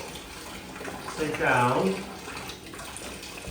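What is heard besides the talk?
warm water running into a bath for golden retriever puppies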